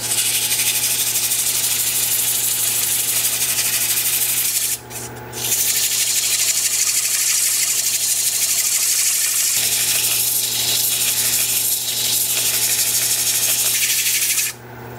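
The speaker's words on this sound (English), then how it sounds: "I think we are ready for sanding." Continuous abrasive sanding hiss against a wooden bowl spinning on a lathe, steady and close, with a low motor hum beneath and a few brief pauses.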